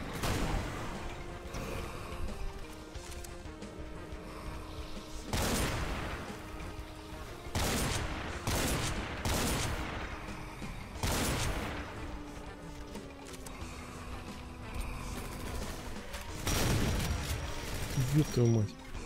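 Video game gunfire from Doom with the Project Brutality mod, Plutonia 2 map 13, loud repeated shots and booming blasts over game music and effects, with someone talking over the action.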